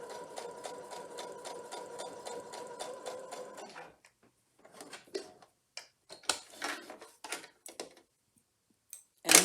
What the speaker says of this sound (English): you keep sewing all the way to the end